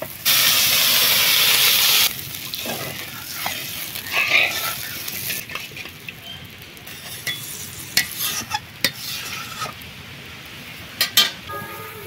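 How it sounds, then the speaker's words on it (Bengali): Water poured into hot fried masala for a Dover sole fish curry bursts into a loud hissing sizzle for about two seconds, then settles into a quieter simmer with repeated stirring scrapes and clinks. "মশলা থেকে দেখুন খুব সুন্দরভাবে তেল ছেড়ে গেছে, এবারে জল দিয়ে দিচ্ছি"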